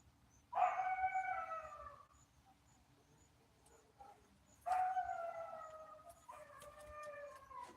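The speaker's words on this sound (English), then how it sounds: "you hear the wolves over there" Wolves howl in the distance outdoors, two long drawn-out wavering howls with a third rising at the end, faint and alone over quiet background.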